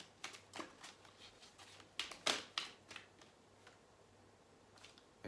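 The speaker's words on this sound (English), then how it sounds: "I flipped it back over and carried on shuffling" A deck of guidance cards is shuffled by hand nearby, a string of quick soft riffling clicks and flicks in irregular bursts that thin out toward the end, quiet and without speech.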